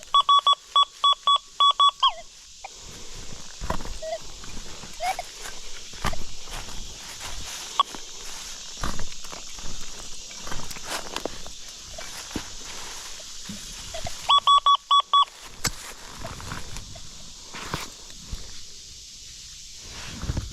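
An XP Deus 2 metal detector at an 1830s church site sounds a steady electronic tone in short pulsed bursts over a shallow target, once at the start and again midway, with footsteps and rustling around it.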